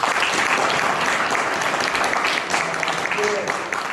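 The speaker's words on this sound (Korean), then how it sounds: "박수 한번 쳐주시죠." An audience at a book concert in Ansan claps in dense, steady applause that fills the whole stretch and eases slightly near the end.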